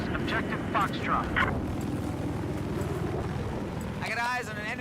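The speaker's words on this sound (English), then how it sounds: "I got eyes on an enemy chopper." An enemy helicopter in a military shooter game gives a low, steady rotor drone throughout, moderately loud, with a voice speaking briefly over it near the end.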